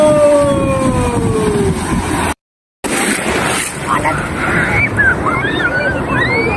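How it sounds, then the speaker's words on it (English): Sea waves wash onto a beach in Tanza, Cavite, Philippines, a steady broadband surf roar with wind buffeting the microphone and a short dropout midway. "This is the very nice sea beach located Tanja, Cavite, Philippines."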